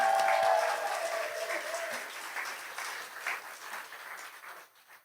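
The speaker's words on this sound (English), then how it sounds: "Let's give Roland a big round of applause." An audience at a live storytelling evening applauds a storyteller, warm clapping that starts full and gradually thins and fades away over several seconds.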